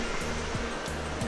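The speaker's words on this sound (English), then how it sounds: "Got the river flowing down there." River flowing below a campsite, a steady broadband wash of moving water holding level throughout, with a few brief soft swells and no voices.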